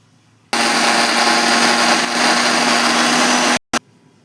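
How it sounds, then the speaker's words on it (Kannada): A kitchen mixer grinder blitzes grated coconut with a little water for a chana dal holige saaru, a loud steady whirring drone running about three seconds before cutting off, then one short burst. "ಈಗ ಇದನ್ನು ಮಿಕ್ಸಿಯಲ್ಲಿ ಸಣ್ಣ ಮಾಡ್ಕೊತೀನಿ ರೀ."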